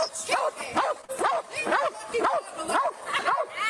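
Police K9 dog barking repeatedly at close range during a street arrest, about eight sharp barks in an even rhythm, with voices talking faintly underneath.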